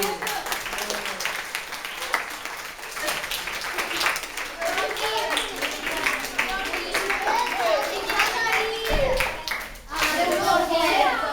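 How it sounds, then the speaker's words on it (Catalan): Schoolchildren clap for an army group at a 9 October school celebration in Alfarràs. Steady, busy clapping runs throughout, mixed with children's voices and crowd chatter. "L'exèrcit, els aplaudim."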